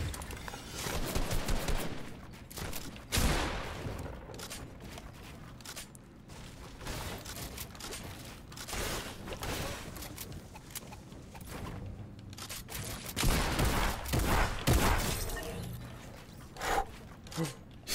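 Gunfire in the video game Fortnite during a solo match, with repeated bursts and scattered shots close by over busy game noise, plus a few louder cracks and some quiet talk mixed in.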